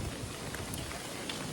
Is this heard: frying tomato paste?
no